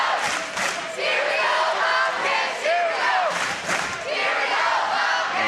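Palatine fans at the 2012 LSA boys basketball championship keep up a loud, continuous crowd roar, with shouts and chant-like cheering swelling and dipping throughout the game.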